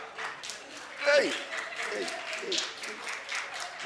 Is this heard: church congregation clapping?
yes